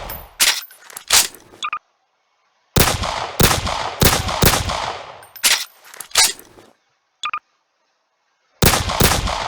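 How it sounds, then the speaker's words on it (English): M9 pistol fired in the video game Garry's Mod: sharp loud shots in irregular bursts, several quick reports followed by pauses of silence, with a couple of faint clicks between. "here's the M9. Let's shoot it around real quick. Four shots to the left."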